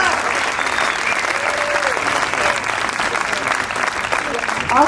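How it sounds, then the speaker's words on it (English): Audience at a Michigan 11th congressional district Republican candidate debate gives the candidates a steady, sustained round of applause that fills the room at even loudness for the whole stretch, with no talk over it. "A big round of applause, too, please, for the candidates for participating."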